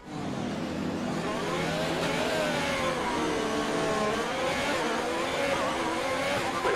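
F1 race car engines rev loudly on the starting grid in F1 2020, a dense chorus of rising and falling engine pitches that runs continuously.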